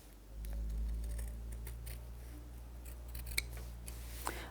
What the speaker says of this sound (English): And then I'll just cut those curves.